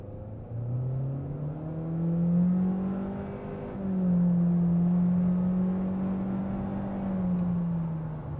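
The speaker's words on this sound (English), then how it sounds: "Let's go ahead and start with a 0 to 60." A 2023 Honda Accord LX accelerates hard from 0 to 60, heard from inside the cabin as a steady engine drone that rises in pitch through each gear, with a short drop at the upshift before climbing again.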